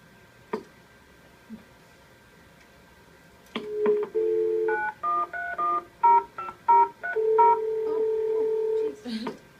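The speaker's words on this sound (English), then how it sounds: "Trying to dial my cell phone to see if it'll work." DTMF dialing tones sound from a Zetron radio console: a quick run of a dozen or so short, clean beeps in an uneven rhythm after a few clicks, ending with a longer tone.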